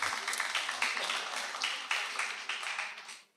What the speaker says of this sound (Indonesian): Ya, tepuk tangan buat Mas Firsan.